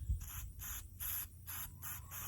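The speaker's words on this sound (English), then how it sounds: "I'm gonna spray it in here." Several short hissing aerosol sprays of sealant onto a leaking cut in a water hose, in a steady rhythm, each burst lasting about a third of a second with brief pauses between, close and fairly loud.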